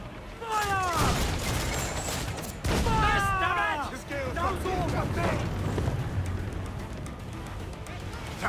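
Ship cannons fire a broadside during a naval chase in Assassin's Creed IV Black Flag, heavy booms rolling out in bursts under shouted commands, music and battle noise throughout.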